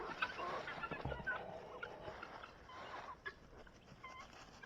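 Chickens and guinea fowl clucking close by in a farmyard, a busy overlapping mix of short clucks and sharper chirps of varied pitch, with scuffling and ambient noise around them.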